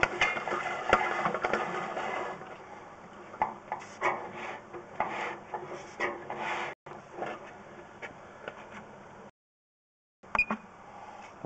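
A drain cleaning tool rasps and grinds against tree roots inside PVC pipe near a brick wall, giving irregular scraping bursts with brief beeps and short pauses, ending in a gap of silence before resuming.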